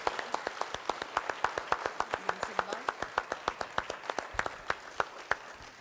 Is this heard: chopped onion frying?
no